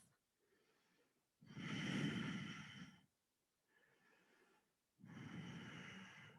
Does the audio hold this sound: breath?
yes